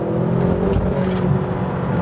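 A 2020 McLaren GT supercar downshifts and surges forward under hard throttle, its engine note rising in a continuous loud, close roar from inside the cabin with no talking.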